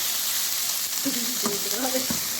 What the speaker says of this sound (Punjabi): ਇਹਨੂੰ ਭੁੰਨਣਾ ਹੈ ਥੋੜਾ ਜਿਹਾ ਭੁੰਨਣਾ ਹੈ ਨਾ ਕਿਉਂਕਿ ਜਿਹੜਾ ਲਸਣ ਅਦਰਕ ਦਾ ਪੇਸਟ ਹੈ